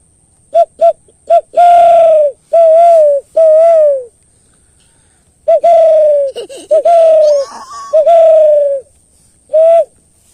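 A person in a village imitates a dove's call with a series of short, hollow coos, about nine close, loud bursts. They come in two groups separated by a pause.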